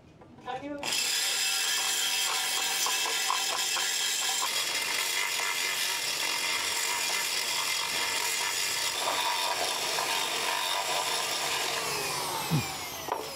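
A drill enlarges a hole in the metal base plate of a Zontes ADV 400G motorcycle, giving a continuous close, whining grind with rattling and scraping, steady for most of the clip, with a brief clunk near the end.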